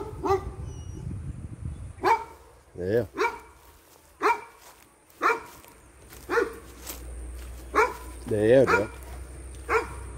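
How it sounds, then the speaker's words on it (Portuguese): Dogs bark repeatedly at an abandoned holiday camp, with about nine sharp barks and a few whimpering yelps spaced a second or so apart, fairly near, with people talking briefly in between. "Tem mais cachorro."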